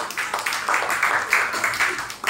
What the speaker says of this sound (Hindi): ताली बजाओ इस बच्चे के लिए